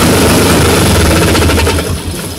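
A loud, rough classic Vespa scooter engine runs nearby with a constant rattling buzz, easing slightly in volume toward the end.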